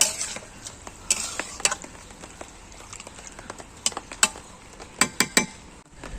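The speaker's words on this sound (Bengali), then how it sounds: "ভালোভাবে জলটা তরকারির সাথে মিশিয়ে দিলাম।" Water stirred into a taro and prawn curry in a pan, a run of close, irregular spatula clacks and scrapes against the metal over a faint simmering hiss, clustering into quicker taps near the end.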